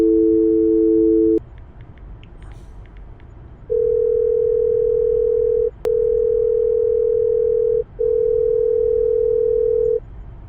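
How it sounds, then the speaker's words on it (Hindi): An unanswered phone rings with a steady electronic tone in long repeated beeps with short gaps, clear and close, with no voices. "अबे ये फोन क्यों नहीं उठा रहा?"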